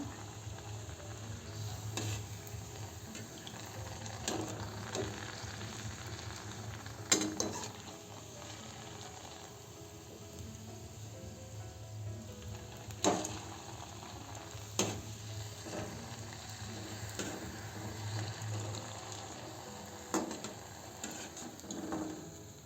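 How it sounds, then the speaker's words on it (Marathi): Small samosas deep-fry in hot oil with a steady soft sizzle and bubbling, punctuated by occasional clicks and taps of a utensil against the pan, close and fairly quiet. "सर्व समोसे असेच आपण तळून घेऊ"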